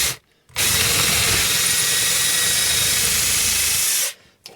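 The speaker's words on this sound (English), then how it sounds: "I think I can just drill it through with this." A power drill bores steadily through a pilot hole in wood for about three and a half seconds, a loud continuous whirring grind that starts and stops abruptly, with short quiet gaps at each end.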